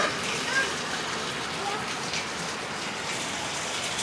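Steady rain falls outdoors where a small child plays, an even, dense hiss of drops on surfaces that stays constant and fairly loud throughout.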